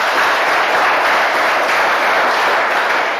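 An audience at a Buddhist dharma talk bursts into applause, loud and continuous, with a dense wash of many hands clapping throughout and no voices above it.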